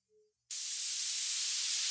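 A dubstep riser synth built in Ableton, drenched in room reverb, bursts in after a brief silence as a loud, steady wash of bright, hissing noise that holds alone to the end.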